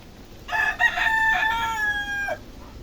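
A Sweater-bloodline gamecock lets out a single loud, clear crow close by, a drawn-out call rising and then trailing off over about two seconds against a quiet background.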